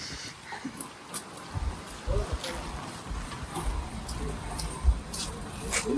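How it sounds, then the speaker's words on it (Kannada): Rain falling outdoors near a parked car, a steady soft patter of drops with scattered heavier taps, heard under nearby voices and some background movement. "ಮಳೆ ಬರ್ತಾ ಇದೆ ಇಲ್ಲಿ ನೋಡಿ"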